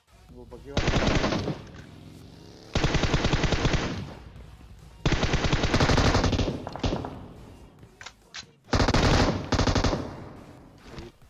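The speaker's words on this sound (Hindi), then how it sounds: "एक बंदे के मैं आधी गोलियां पेलता हूं" Bursts of rapid automatic gunfire in PUBG, four long sustained volleys with short pauses between them, loud and close, with a few scattered single shots.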